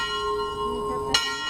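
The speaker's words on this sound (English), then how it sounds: "Church bells were rung at 8:45 a.m., remembering the time when the first bomb went off" A church bell tolls in remembrance, one strong struck note ringing out with a long sustained hum and bright overtones, clear and fairly near, with no speech.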